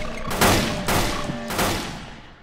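Three loud gunshots ring out in the Roblox horror game The Floors Have Teeth, evenly spaced about half a second apart, each a sharp close blast with a lingering decaying tail.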